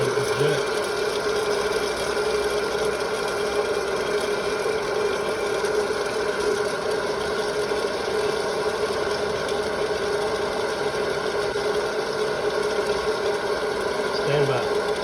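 Hot air popcorn popper roasting coffee beans, a continuous steady whirring fan drone with a faint rattle of beans, unbroken and moderately loud throughout.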